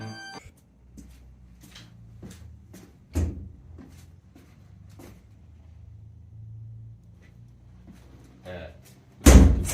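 A door opens in an anime-style game show scene, with scattered knocks and clunks leading to a loud, sudden burst near the end.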